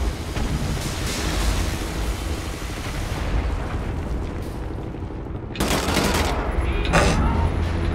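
Dense, continuous gunfire from two guns fired at once in the shooter Wolfenstein: The New Order, a steady loud rattle of rapid shots with heavier booming bursts near the end.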